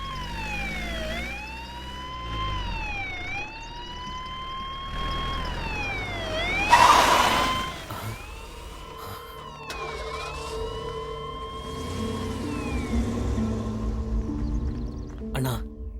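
Police jeep siren wailing loudly and steadily, its pitch rising and falling in repeated sweeps over traffic noise, with a brief burst of noise midway and people talking over it.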